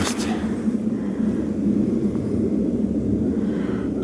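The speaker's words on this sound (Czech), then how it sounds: "Akorát ty letadla mi znervozňují" A steady low rumble of airplanes passing overhead fills a forest, continuous and fairly loud throughout, with no other distinct sounds.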